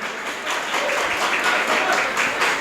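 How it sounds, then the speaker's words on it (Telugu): An audience at an association felicitation event in Vijayawada claps steadily, a dense, sustained wash of applause at a moderately loud level throughout the clip. "అందరూ దయచేసి మీ యొక్క చప్పట్లు గట్టిగా వినిపించాల్సిందిగా కోరుతున్నాం"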